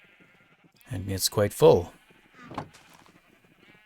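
Sheep on a sheep farm in Minecraft give a few loud, close bleats in quick succession, followed by a fainter one, while someone speaks briefly.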